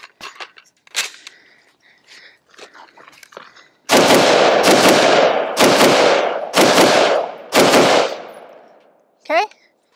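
CZ BREN 2 rifle fired in five loud, sharp bursts at close range, each a rapid string of shots with a short ring-out, after a few seconds of quieter handling clicks and a final metallic clack.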